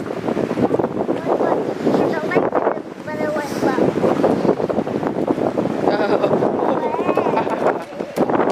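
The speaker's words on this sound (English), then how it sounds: "it's so windy." Strong wind beside a lake buffets the microphone with a steady, loud roar, while a voice speaks intermittently through the gusts.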